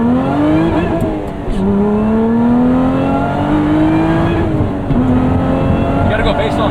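A modified 2024 Lotus Emira pulls hard under acceleration, its engine revving loudly and rising steadily in pitch through two gear changes, heard close from inside the car.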